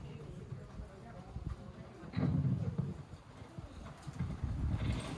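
Hooves clip-clop at a walking pace, soft and fairly close, over a low background murmur.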